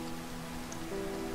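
Rain falls in a video game as a faint, steady patter, with a low sustained hum underneath, and no talk.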